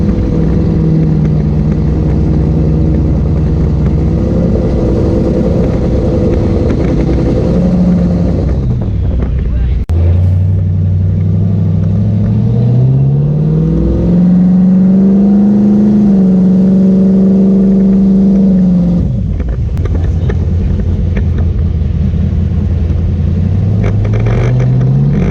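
A turbocharged V8 Nova drives after a carburetor jet change, its engine droning loudly under wind noise with rising and falling pitch as it shifts through gears and accelerates.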